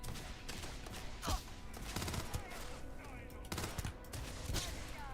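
Rapid bursts of gunfire crackle in Starfield, repeated sharp shots in clusters against a busy combat background, fairly faint in the mix with some speech underneath.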